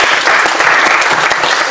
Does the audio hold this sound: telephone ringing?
no